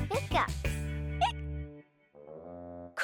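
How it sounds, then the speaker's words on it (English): A cartoon character hiccups in short, sharp bursts near the start, broken by voiced cries, then a sustained tonal voice carries on alone. "Cuquín's giving you the hiccups."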